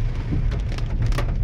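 Heavy rain falls on a flooded village road near Baramati as a dense, continuous wash with a strong low rumble and scattered sharper patters on surfaces, loud and close, with no voices.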